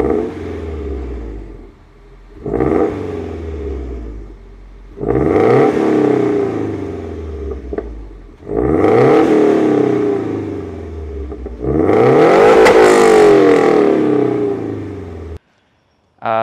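A Subaru Impreza fitted with a resonator and rear muffler revs in a series of rising bursts, each climbing louder than the last before dropping back to idle, heard close and alone.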